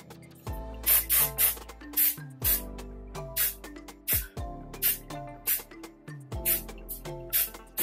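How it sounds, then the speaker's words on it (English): Hairspray from an aerosol can misted over fine, thin hair at a styling session, in a run of about a dozen short hissing bursts, some in quick pairs, loud and close with no talk. "Give her a good hairspray."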